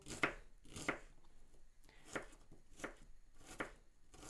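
Onion being chopped with a knife on a board for an eggplant casserole, about six separate crisp cuts spaced roughly half a second apart, close and moderately loud with no talking.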